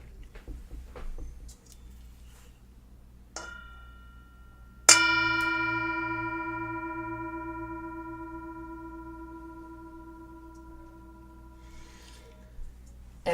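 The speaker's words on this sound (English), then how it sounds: "I'll invite the bell to sound again." A single meditation bell is struck once during a mindfulness session, ringing out clear and close with a bright strike and a long, slowly fading shimmer of tones, preceded by faint room sounds.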